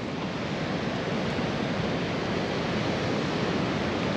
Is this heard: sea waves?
yes